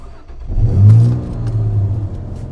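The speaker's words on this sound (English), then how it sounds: "here's the startup sequence on a Rossion Q1" A Rossion Q1 sports car engine cranks and catches, then revs up loudly and settles into a rough, throaty idle, close by with no talking.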